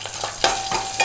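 Tempering spices crackle in a spoonful of hot oil for tomato pepper rasam, a loud, close sizzle broken by sharp stirring scrapes and bursts of spattering.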